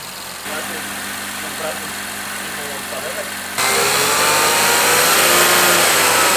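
A stock turbocharged car engine idling through a very long exhaust, giving a steady, vacuum-cleaner-like hum that steps up louder partway through and holds close to the microphone.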